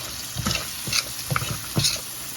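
Potatoes and beef liver frying in a pan are stirred, giving a few scraping strokes over a steady sizzle, close up with no talking.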